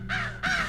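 A crow cawing twice in quick succession, two harsh, nasal calls close by and fairly loud, with a short pause between them over a low background hum.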